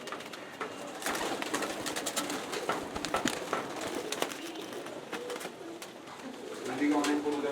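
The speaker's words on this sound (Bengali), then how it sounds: "এদিকে অনেক কবুতর আছে" Many pigeons cooing at a crowded high-flyer pigeon fair, a dense mix of low throaty calls and wing flutters amid clattering, with people talking nearby.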